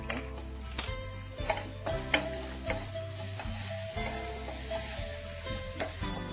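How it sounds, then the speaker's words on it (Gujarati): Vegetables stir-fried in a hot pan for a veg paneer dish, with steady sizzling and repeated scraping and clattering strokes of a spatula recurring about every second, close and alone. "અડધો કલાક મેરિનેટ કર્યા પછીથી આ રીતે એને સ્ટર ફ્રાય કરીએ છીએ"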